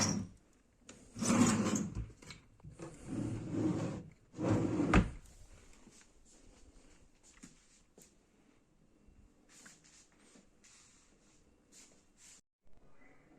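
Wooden drawers in a student dormitory room slide open and shut several times up close, with scraping runs and a sharp thump, then quieter rattling and handling.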